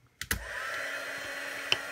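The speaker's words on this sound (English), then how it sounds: "I'm going to go ahead and turn the embossing gun on again to heat up" An embossing heat gun used for card crafting switches on after a couple of clicks and runs as a steady, fairly loud blowing whir.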